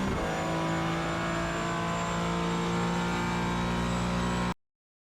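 A Porsche 718 Cayman GT4 in iRacing at the Indianapolis road course, its engine holding a steady, loud, high drone with whirring harmonics before cutting off abruptly near the end.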